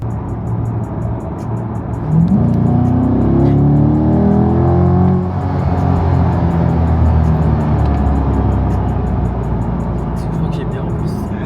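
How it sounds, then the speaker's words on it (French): A Chevrolet Corvette drives and accelerates on a road in Dubai, its engine rising in pitch through a steady, loud run that lasts the whole stretch, with people talking inside over the engine noise. "C'est une Corvette."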